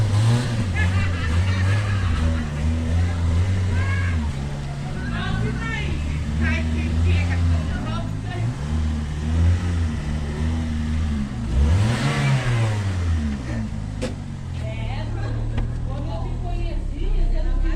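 A small 1.0-litre car engine revs and surges loudly and steadily, its pitch rising and falling through several pulls, with voices talking over it the whole time.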